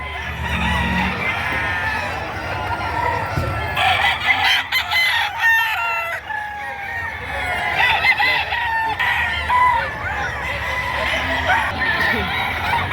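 Several roosters crow and hens cluck in a busy poultry yard, overlapping calls near and far, with people talking in the background.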